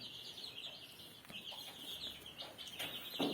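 Chickens on a village farm give scattered soft clucks and short calls over a steady high buzzing background, moderately near, with no one talking.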